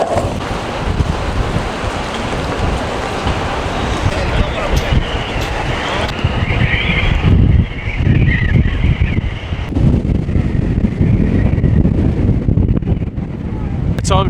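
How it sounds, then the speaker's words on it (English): Strong wind gusting around the Vessel honeycomb structure at Hudson Yards in New York City, a loud continuous buffeting roar with microphone wind noise that swells and eases, with a voice speaking over it. "there's this really crazy wind shear going on right now, and I think the noise is coming from the building, but it's causing this crazy sound"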